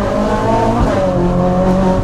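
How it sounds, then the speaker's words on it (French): A Ferrari 458 Spider's naturally aspirated V8 drones loudly and steadily up close, a rich, continuous engine note with no talk over it. "ça me fait du bien d'entendre un bon V8 Atmo"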